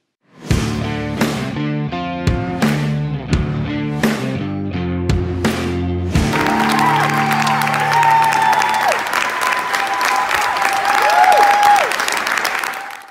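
Loud applause and cheering erupt in the New York Senate chamber after several seconds of sustained chords, then build into a dense, continuous crowd roar that lasts to the end.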